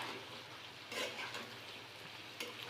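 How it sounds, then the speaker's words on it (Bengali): A rohu fish curry with tender bottle gourd simmering in a pan is stirred, giving a faint steady sizzle with soft scraping strokes and a couple of brief louder clinks of the utensil. "এখন আমি একটু নেড়ে দিচ্ছি।"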